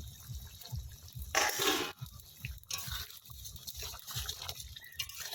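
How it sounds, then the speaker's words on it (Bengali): Pointed gourds (potol) go into a pan of cooked spice paste for malai curry. Two short bursts of hissing sizzle rise over a low, rhythmic thumping hum, with no talking. "এবার আমি পটলগুলো দিয়ে দিচ্ছি"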